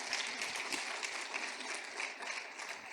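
Steady, dense applause from an audience at a talk on imperialism and modern Britain, heard at a distance and fairly faint, with an even wash of claps throughout.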